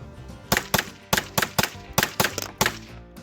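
A TNW ASR rifle fires about ten sharp, loud shots in an uneven, fairly quick series, each crack followed by a brief decay, with no talking.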